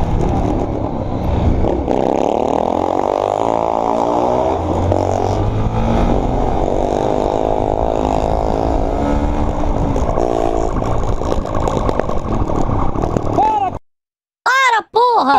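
A motorcycle engine revs loudly and continuously, its exhaust crackling and popping, with a voice talking over the engine noise.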